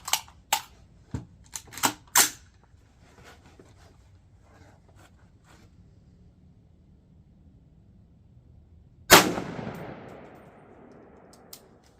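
A single loud gunshot from a budget Anderson rifle fitted with a scope, cracking sharply and decaying into a long outdoor echo, preceded by several quiet clicks and handling sounds.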